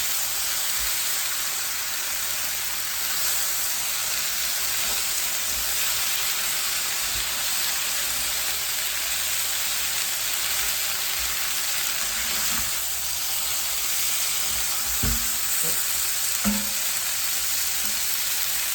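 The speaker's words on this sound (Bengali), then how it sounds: "আমি একটু মিক্স করে দিচ্ছি নাড়া দিয়ে সিম পেঁয়াজ অ্যান্ড টমেটো" Beans, onion and tomato sizzle and fry steadily in an iron wok, with occasional scraping and clinking as they are stirred; continuous close hiss throughout, no talking.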